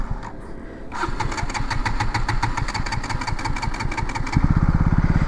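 A KTM Duke 200 motorcycle engine restarts after a short crank and settles into a rapid, even idle. It grows slightly louder and deeper near the end, and no one speaks over it.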